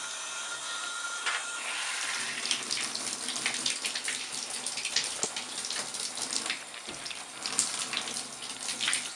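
Water runs steadily from a tap over a Nikon D7000 camera being washed, a continuous close hissing splash with small bursts and gurgles throughout, no voices.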